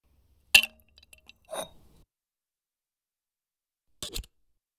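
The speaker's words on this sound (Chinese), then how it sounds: "再加入冰块" Ice cubes dropped into a cocktail of lemon juice, osmanthus syrup, tea syrup and a salted plum make three brief, sharp glassy clinks spaced over a few seconds, close and fairly quiet, with silence between them.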